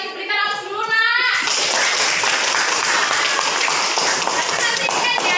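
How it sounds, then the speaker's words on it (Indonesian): A class of students applauds together in a school lesson, broad steady clapping that starts after a brief moment of voices and continues loud and dense to the end. "Berikan aplaus dulu nak"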